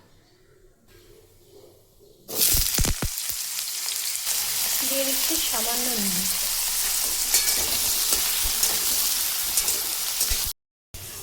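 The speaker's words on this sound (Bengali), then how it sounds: "আমি কিছুটা আলু ডুমো ডুমো করে কেটে রেখেছিলাম, এগুলোকে এখন আমি এই তেলের মধ্যে ভেজে নেব" Diced potatoes dropped into hot oil with bay leaf and whole cumin burst into a loud sizzle after a quiet start, then a sustained crackling hiss with stirring; a voice speaks briefly before the frying begins.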